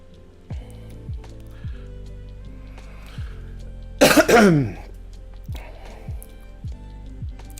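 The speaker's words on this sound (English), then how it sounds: "Just means you heard every fucking bit of that cough." A single loud, harsh cough bursts out once, standing clearly above quieter background clicks and thumps that keep a steady rhythm around it.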